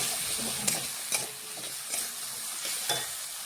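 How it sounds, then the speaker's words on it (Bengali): Potatoes and carrots fry in a pan with a steady sizzle, while a utensil scrapes and stirs them in a few distinct strokes. No one speaks. "ভালোভাবে নাড়াচাড়া করে মিশিয়ে আলু আর গাজর একটু আগে ভেজে নেব"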